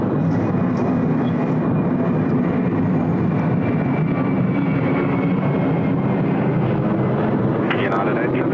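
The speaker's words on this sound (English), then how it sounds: "Just a couple of aircraft moving about, one crossing downfield at taxiway Lima." Jet airliners taxiing at Sydney Airport give a steady, distant engine rumble and whine that holds throughout, with a voice talking over it.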